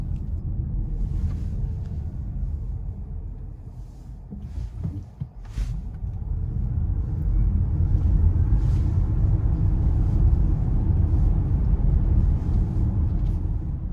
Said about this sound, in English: Here we'll do a little standstill acceleration to just above the speed limit.